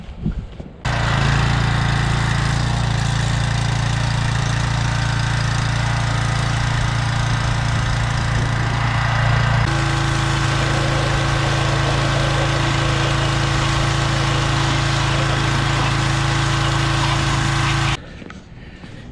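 A gasoline engine-driven power washer runs steadily while cleaning a duck boat, a loud continuous motor drone with a hissing spray that shifts in tone partway through, then cuts off near the end.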